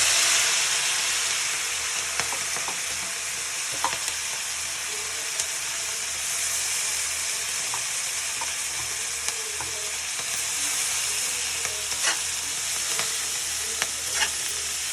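Onions frying in a pan with greens and potato added, giving a steady close sizzle with scattered clicks of stirring and no talking.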